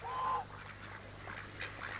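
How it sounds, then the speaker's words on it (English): A brief, faint quack rises at the start, followed by soft distant honking and cackling from waterfowl. "Sounds as if all the geese and ducks are giggling too."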